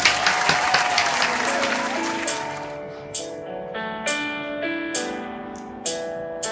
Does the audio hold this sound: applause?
yes